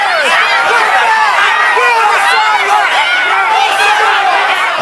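Loud, dense crowd of street protest demonstrators shouting and yelling together, with overlapping voices and rising cheers filling the space continuously throughout.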